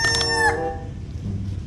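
A broiler chicken crows loudly and close by, a single drawn-out call with a bright, strained tone that breaks off, followed by low background noise and faint clucking.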